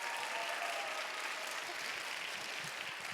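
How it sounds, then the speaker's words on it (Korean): A church congregation applauds its worship team during a Sunday young-adults service, steady dense clapping filling the room evenly from start to finish with no voices over it. "박수 한번 부탁드리겠습니다."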